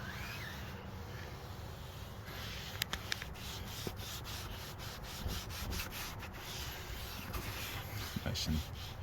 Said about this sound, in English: I kind of dab it here and there, and I rub it across the surface of everything.